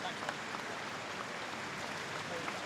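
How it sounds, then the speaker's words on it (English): Spectators and teammates at a Premiership Women's rugby match between Loughborough Lightning and Gloucester-Hartpury applaud an injured player leaving the field. The clapping is faint, distant and steady under commentary speech. "her teammates are certainly going to give her the applause as she leaves the field as well"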